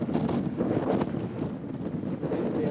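Gusty wind buffets the microphone outdoors beside a warship on the water, a loud rumbling roar that surges and eases in uneven gusts for a few seconds.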